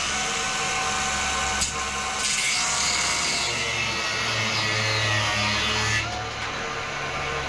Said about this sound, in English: I got to cut these bolts off right here because they're kind of sticking out